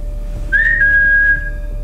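A single clear whistled note, rising briefly then held steady for about a second, close and loud over a quiet hotel room.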